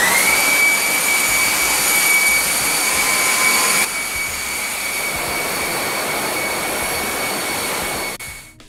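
A Flipsky underwater thruster motor for a paddle board runs with a loud, steady electric whine and a high tonal hum, shifting slightly partway through before spinning down at the end, with no voices.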